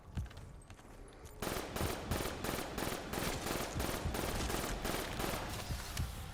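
An M8 rifle fires in Black Ops 3 Zombies, rapid repeated gunshots bursting in loud and close, then continuing as a dense rattling stream of automatic fire with no speech over it.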